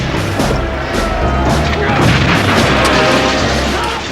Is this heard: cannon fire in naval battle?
yes